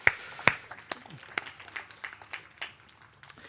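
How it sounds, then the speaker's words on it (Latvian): Quiz contestants and audience at a foreign-policy championship give a thin round of applause: scattered, sparse claps from a small group, a couple of sharp ones up front, then lighter irregular hand claps trailing off quietly. "aplausi!"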